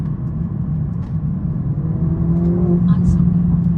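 A Mercedes-Benz A45 S hatchback with 310 kW and 500 Nm pulls under acceleration from inside the cabin. Its engine drones steadily and climbs in pitch toward the end.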